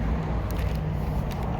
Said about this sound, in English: Bunch of traffic noise, it's annoying.